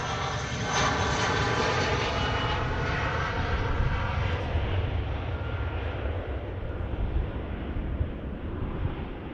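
A jet aircraft engine roars at Manchester Airport, a loud, steady broadband rush that holds for several seconds and slowly eases, with wind buffeting and no voices.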